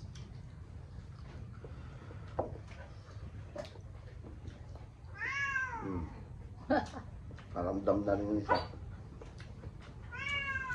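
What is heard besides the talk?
cats meowing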